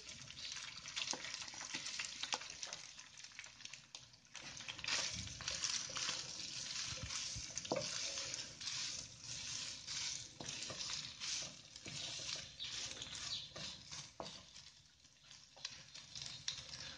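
Cumin and shredded chicken fry in a pan with a steady, close hiss and sizzle, broken by occasional scraping stir sounds and no voices.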